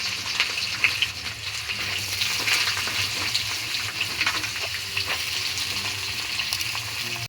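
Carrots and other vegetables fry in ghee and refined oil with garam masala for fried rice. A steady, close sizzle holds throughout, with occasional stirring scrapes and no talk.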